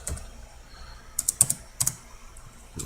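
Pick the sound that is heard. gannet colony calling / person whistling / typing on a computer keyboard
typing on a computer keyboard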